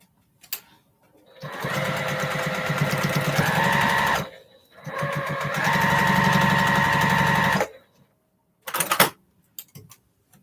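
A sewing machine stitches up close in two sustained runs of rapid, even mechanical whirring and ticking, each a few seconds long, separated by a brief pause and followed by a few short clicks.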